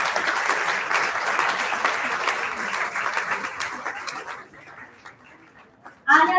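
An audience at an annual school awards ceremony applauds, a dense wash of clapping for about four seconds that fades away, followed by a short loud burst of sound at the very end.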